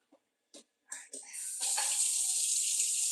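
A kitchen tap turns on after a few small clicks and bumps, then runs in a steady, close hissing stream of water into the sink during handwashing.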